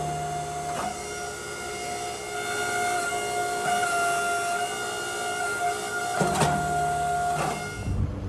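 A forging press squeezes a heated wrought iron billet from the top to forge weld it for a Viking hammer, giving a steady mechanical hum with a few sharp knocks and thuds along the way.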